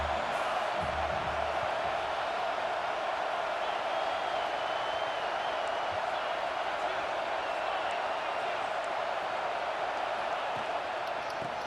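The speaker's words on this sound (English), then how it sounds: "This crowd rising up, sensing that its defense needs some help." A football stadium crowd makes a broad, sustained roar of cheering during a defensive stand, heard as a dense wash of noise beneath a commentator's play-by-play.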